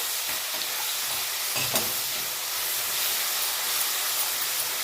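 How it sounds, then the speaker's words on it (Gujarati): Garlic and cumin sautéing in hot oil, a dense steady sizzle close up with a brief stir partway through. "આપણું લસણ જીરું એકદમ સરસ તેલની અંદર સંતળાઈ ગયું છે"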